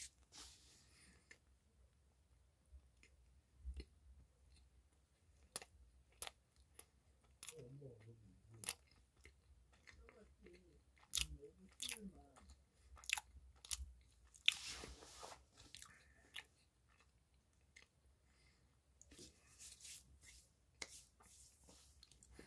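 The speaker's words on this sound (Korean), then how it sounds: "오늘은 이렇게 소프트 롤링 화이트 커스타드라는 빵을 한번 먹어봤는데요." Chewing and biting into soft rolling white custard bread, a spongy bun, heard as scattered close, quiet mouth clicks and soft munching across a long stretch, with a brief murmur of voice in between.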